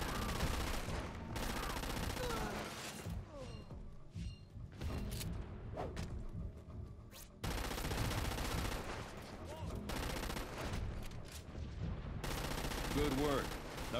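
Video game gunfire from Crackdown 2 on Xbox 360: loud bursts of rapid automatic fire and scattered single shots with brief pauses, mixed with thuds and game sounds.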